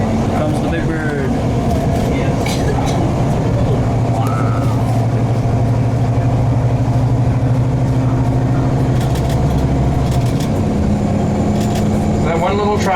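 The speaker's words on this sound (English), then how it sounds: "That one little tractor is towing it away." A steady engine hum and whine fill the scene, with a small aircraft tug's motor droning under a louder jet whine as it tows a big airliner at Toronto Pearson airport, continuous and nearby.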